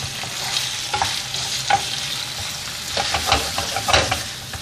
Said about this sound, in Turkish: Tamamen şu şekilde rengi dönene kadar karıştırıyorum.